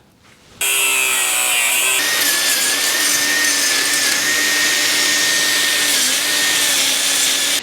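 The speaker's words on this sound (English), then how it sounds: "Now let's trim down the actual strapping itself." A power tool trimming metal strapping on a 1953 GMC starts abruptly and keeps up a loud, continuous high-pitched grinding whine, close up, with no voices.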